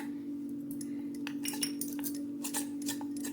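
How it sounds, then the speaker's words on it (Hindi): Metal spoon clinking and scraping in a bowl while 2 spoons of ghee and 2 spoons of maida are stirred into a paste for layered khasta namakpare; steady close clinks with a constant hum underneath. "इस घोल को अच्छे से हम बना लेंगे"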